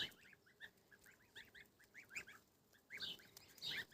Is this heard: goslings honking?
yes